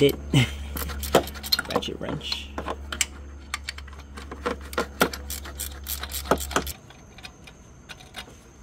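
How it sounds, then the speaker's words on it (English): Ratchet wrench clicking as it loosens a bolt on a Nissan VQ37VHR engine during a serpentine drive belt job, a rapid run of sharp metallic clicks in bursts, close up, over a low steady hum that stops near the end. "Use a ratchet ratchet wrench."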